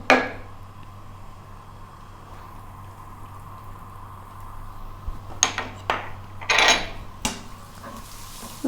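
Onion and garlic hit sunflower oil in a pan, producing brief clattering and sizzling bursts over a low, steady kitchen hum, with mostly quiet stretches before them.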